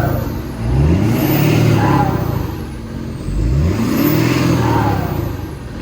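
A Ford 6.7 Power Stroke diesel in a huge dually pickup, running its 2012-style turbo, revs twice in strong, close, loud pulls. Each rise carries a climbing turbo whine, then eases back to a rumbling idle.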